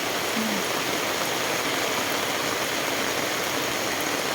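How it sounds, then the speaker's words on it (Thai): Heavy rain pours in front of a house in a dense, constant hiss mixed with rushing runoff water, loud and unbroken throughout. "ฝนตกนั่นลูกเนาะ"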